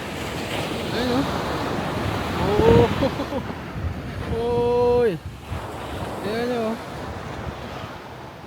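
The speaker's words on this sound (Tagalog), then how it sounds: "Ganda ng dagat." Sea waves washing onto a beach with steady wind buffeting the microphone, a continuous rushing surge while people exclaim and chat nearby.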